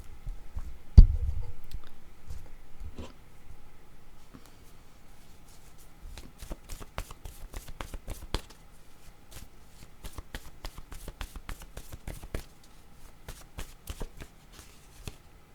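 Playing cards are shuffled for a card reading. A sharp knock at the start gives way to faint, irregular riffling and crisp clicks that grow busier toward the end, heard close and alone.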